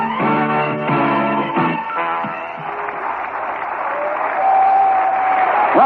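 A baseball stadium crowd of more than 31,000 in Atlanta roars and cheers continuously, a broad sustained wash of noise with clapping and whistles, and no voices stand out above it.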